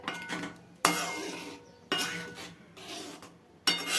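Spoon stirring vermicelli kheer with nutmeg and cardamom in a pot, with three or four distinct scraping, clinking strokes against the metal, each fading out before the next, close and fairly quiet with no talking.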